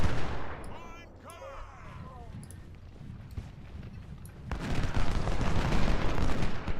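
Artillery batteries and rifle fire in the Civil War strategy video game Ultimate General: Civil War, a rumbling mix of distant cannon booms and crackling gunshots that swells louder near the end, with faint voice-like tones early on.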